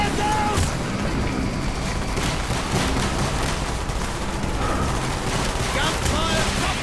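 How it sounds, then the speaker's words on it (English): Dense, continuous barrage of booming cannon gunfire and explosions from a Call of Duty: Black Ops battle, loud and chaotic throughout with voices shouting faintly underneath. "Gunfire from the cannon!"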